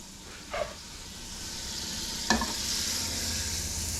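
Bacon fat and butter sizzle in a pan with a soft, steady frying hiss that builds gradually, broken by two brief clinks or scrapes; close and moderately quiet, with no talking.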